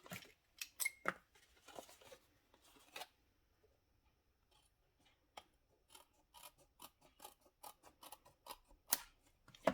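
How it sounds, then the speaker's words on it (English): Scissors snip away excess paper or card while making a sentiment background, a quiet series of short crisp cuts in irregular bursts with brief pauses between them, no talking. "And we cut the excess again."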